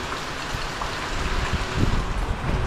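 Rain keeps falling on a hut in Camarines Norte as a dense, even hiss with gusts of wind, growing a little louder toward the end.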